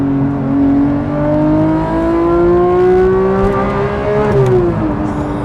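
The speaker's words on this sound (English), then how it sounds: "can hear the rundown of the engine on the overrun" Porsche GT3 engine with an aftermarket exhaust running down on the overrun, a loud, steady drone that rises gradually in pitch, then drops and fades near the end, with no talk over it.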